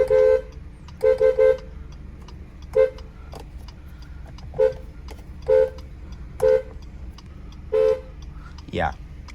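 Horn of a 2013 Acura ILX sounded in short beeps, several quick double and triple toots followed by single ones at irregular intervals, close and clear over a quiet idle hum.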